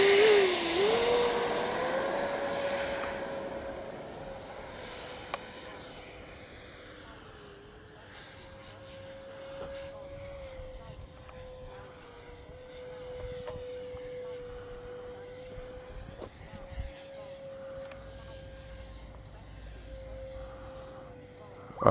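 A Freewing J10A 90mm electric ducted-fan RC delta jet whines steadily as it takes off and flies, a sustained high-pitched tone that starts loud, then fades and holds at a distance, with someone talking now and then.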